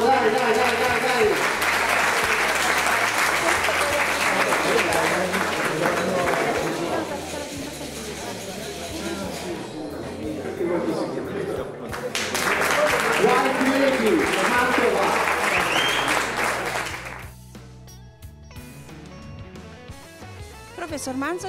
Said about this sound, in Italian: Bel applauso, dai, dai, dai, dai, dai.